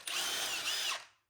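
A mid-torque impact wrench undoing a pinch bolt on a BMW 328i suspension gives one loud, close, continuous high-pitched burst of about a second, then stops abruptly.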